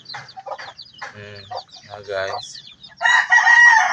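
A sick, dying chicken clucks in short bursts and then lets out a strained crow, heard close, with a person speaking briefly alongside.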